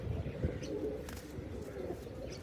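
Pigeons from Gurdev's line coo softly in a loft, a faint low rolling murmur that continues under quiet background noise, with no clear speech.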